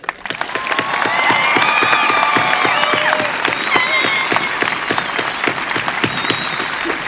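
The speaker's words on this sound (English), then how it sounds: "join me in a round of applause for our graduates." A graduation audience at a high school ceremony applauds the graduates, a dense, sustained wash of clapping from a large crowd with a few whistles and cheers rising through it, steady for several seconds.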